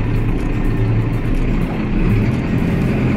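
A Valtra G tractor rolls along a road, its engine giving a steady, even drone that stays close and constant throughout, with no talking.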